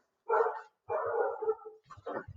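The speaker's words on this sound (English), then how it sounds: "Ignore the dog barking in the background." A dog barks in the background in three separate outbursts, each a cluster of short, mid-pitched barks with slight whimpering tones, moderately distant and heard alone without talk.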